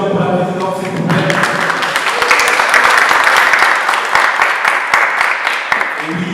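An audience applauds the president of a student association at an international conference in Reims, a steady crowd of dense clapping that swells and then tapers, with a voice speaking briefly at the start and near the end.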